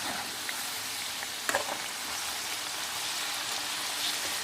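Potato french fries fry in hot oil with a dense, continuous sizzle and bubbling, steady and close, broken once by a brief clink.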